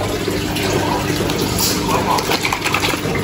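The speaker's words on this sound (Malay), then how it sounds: "Satu penutup anti klorin saja. So kita akan tuang lah." Anti-chlorine water conditioner is poured into a 4 by 2 foot arowana aquarium, a continuous close liquid pour mixed with steady bubbling and running water.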